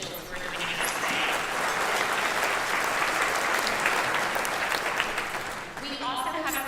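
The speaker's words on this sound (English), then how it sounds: "let's give another round of applause for all the elected officials who are joining us today" Sustained applause from an audience at a county State of the County address, a dense, even clapping wash lasting several seconds before fading.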